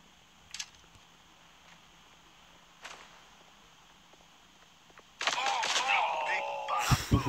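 Shotgun fire in the mobile shooter Guns of Boom comes as a couple of faint sharp cracks early on, then a loud burst of dense, clattering gunfire and effects that takes over the last two seconds.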